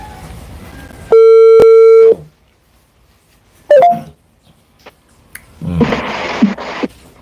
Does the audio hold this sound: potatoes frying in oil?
no